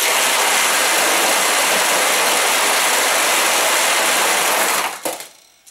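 A Sanyo pachinko machine empties its steel balls as a lever is pushed, a loud dense rushing rattle that pours steadily for about five seconds, then trails off in a few scattered clicks.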